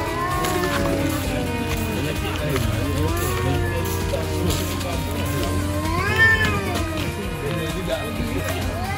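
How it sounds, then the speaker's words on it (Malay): Cats fighting and meowing at a campsite beside a green Avanza: drawn-out, wavering yowls and caterwauls rise and fall over a steady background hum, with people talking throughout. "Sambil tu tengok kucing bergaduh."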